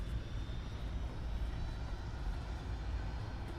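A Buccaneer jet's engines roar steadily during a fast taxi run, a loud continuous broadband rumble that holds without a break throughout.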